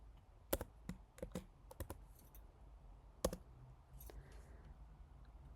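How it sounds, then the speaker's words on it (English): Keys clack on a computer keyboard in sparse, irregular taps, a handful of sharp clicks spread across a quiet room with pauses between them and no one talking. "So I will press T on my keyboard."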